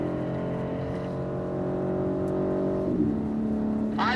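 A BMW M car engine drones steadily at close range on a track, its pitch holding and then shifting downward as it changes gear, with a brief higher whine near the end.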